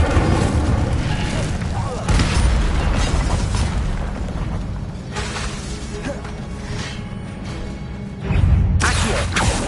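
Fiery Incendio spell bursts in Hogwarts Legacy gameplay, repeated booming blasts and whooshes over a dense game soundscape, with loud surges near the start, middle and end amid other spell effects.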